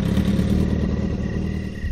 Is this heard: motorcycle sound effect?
yes